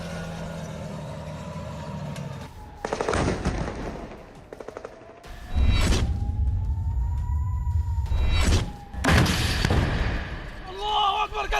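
Loud bursts of gunfire, missile and drone-strike blasts crack in clusters over a wailing siren, with broadband booms and rumble between them.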